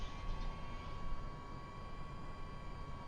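Tilt-rotor V-22 Osprey engines in a flight simulator game spool up into a steady, faint droning hum with a thin constant whine, held evenly throughout with no voices.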